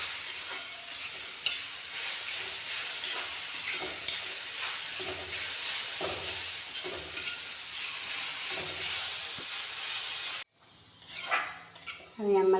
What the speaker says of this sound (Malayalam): ഇതിൻ്റെ പച്ചമണം പോകുന്ന വരെ ഒന്ന് ഇളക്കി കൊടുക്കുക.